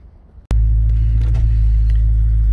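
A Dodge Scat Pack's engine fires into a loud, steady low rumble after a brief quiet moment, droning close and constant while driving with slight throttle variations.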